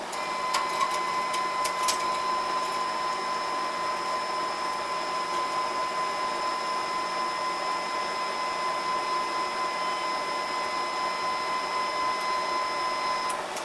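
A car wiper motor lifts a heavy metal weight of about 209 pounds with a constant high whine and hum that runs the whole time. There is no talk.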